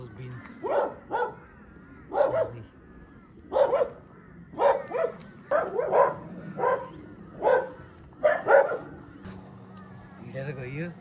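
Dogs barking at a house along a walking route near Kooralbyn, Queensland, repeated sharp barks in irregular bursts at moderate distance, with quiet background between them.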